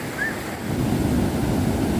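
Rushing water of a waterfall pouring into a forest pool, a continuous close, loud broadband roar with no voices.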